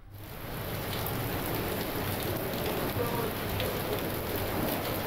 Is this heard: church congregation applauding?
no